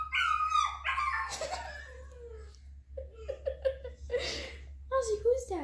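A dog whimpers and lets out drawn-out, wavering howls and whines in a room, with a low steady hum underneath and a person's voice talking in places.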